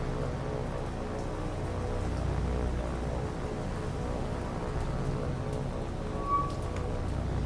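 Steady rain in the naval combat video game War on the Sea, a dense continuous wash with a low rumbling bed and no voices over it.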